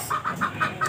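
Chickens cluck nearby in a quick regular series of about five short clucks within a second, clear and close.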